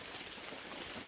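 Steady rain falls outdoors on a mountainside, a dense, even hiss of drops filling the whole moment without a break, with no voices.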